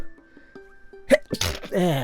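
A single sharp sneeze bursts out close by after a quiet hum, followed by a short exhale and breathy noise.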